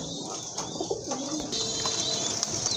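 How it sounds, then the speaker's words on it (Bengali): A pair of black Bombay pigeons with rose crests coos softly and close by in a few low, rolling calls. "খুবই সুন্দর এক জোড়া বোম্বাই কবুতর ব্ল্যাক বোম্বাই গোলাপ ঝুটির কবুতর"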